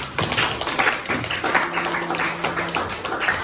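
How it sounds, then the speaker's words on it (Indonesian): Students in a grade 10 social studies classroom clap together in a short burst of uneven, close hand claps and taps, moderately loud, with no talking. "Tepuk tangan untuk kita semua."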